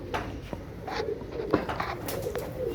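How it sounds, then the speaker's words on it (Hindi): Pigeons coo repeatedly at close range, soft throaty calls layered over one another against a steady outdoor background. "असल हालत के अंदर ही कबूतर दिखा रहा हूँ आप लोगों को मैं"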